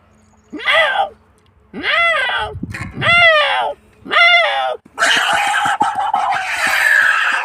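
A person imitates a cat with several drawn-out meows in a row, followed by a burst of noisy, hissing sound at the end.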